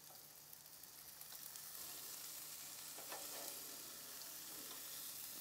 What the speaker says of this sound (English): time to flip the fish. So again, I like to use 2 spatulas.